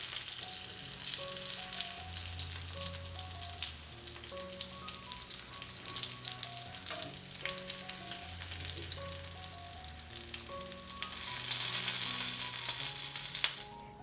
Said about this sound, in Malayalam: ഇതുപോലെ വളരെ പെട്ടെന്ന് നമ്മുടെ മീനെല്ലാം ഒന്ന് പൊരിച്ചെടുത്തിട്ടുണ്ട്.